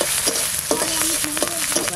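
Green chillies sizzle in hot oil in a home kitchen, a steady crackling fry with repeated scraping stirs of a spatula against the pan, close and fairly loud.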